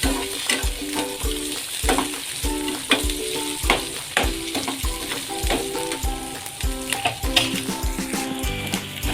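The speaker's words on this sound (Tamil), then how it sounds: "நல்லா பொன்னிறமாக நல்லா வெங்காயம் வதங்கி வரணும்" Chopped onions, green chilies and curry leaves sauté in hot oil, giving a steady sizzle and crackle with repeated sharp clinks of a stirring spoon against the pan, close and continuous.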